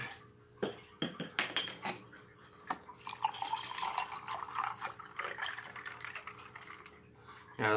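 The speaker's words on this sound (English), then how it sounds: "we're going to use some good old apple juice" Apple juice poured into a Big Apple cocktail with creme de menthe, giving a close, steady liquid splash and trickle after a few clinks of glass and bottle, with no talking.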